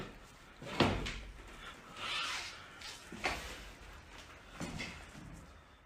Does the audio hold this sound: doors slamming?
yes